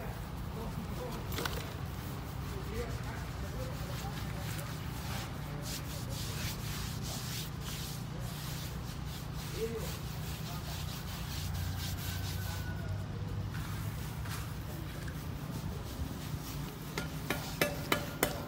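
A damp sponge rubbed over freshly applied plaster on a wall, giving a steady, continuous scuffing and scraping that runs throughout, with a few sharper knocks near the end and people talking faintly in the background.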